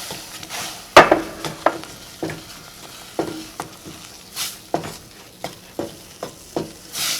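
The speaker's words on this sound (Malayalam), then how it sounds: "ഈ റവ ഇതേപോലെ ഇങ്ങനെ കുറേശ്ശെ ഇങ്ങനെ ചേർത്ത് ഇങ്ങനെ ഇളക്കി കൊടുക്കുക" Semolina is stirred into boiling water in a pan over medium flame, a spoon knocking and scraping against the pan in irregular close strokes over a soft bubbling background, with no talking.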